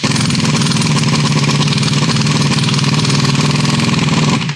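An impact wrench loosens the wheel nuts on a 4.5-tonne motorhome, giving a loud, continuous rapid hammering rattle up close that holds steady for several seconds before cutting off.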